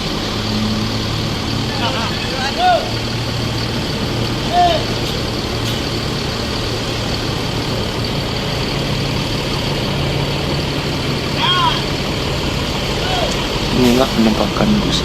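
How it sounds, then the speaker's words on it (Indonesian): A PO ANS executive coach bus rumbles low and steadily as it pulls away from the Bukit Surungan terminal, heavy engine drone under bursts of nearby chatter and a few short horn-like tones. "Dan bus ANS akhirnya melanjutkan perjalanannya menuju kota Jakarta dan"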